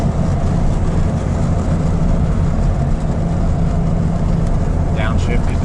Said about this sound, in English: So now we're going up a hill here. Got a load on the engine.